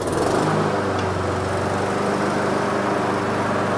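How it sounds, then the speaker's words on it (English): A Honda HRX lawn mower running on ethanol-free gas, its engine already caught and droning loudly and steadily up close, a dense, even mechanical roar with no talking. "Let's go fire this Honda HRX up"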